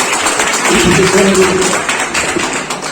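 Office farewell gathering giving a round of applause, with a dense, continuous wash of clapping from a room of people close by, tapering slightly at the end.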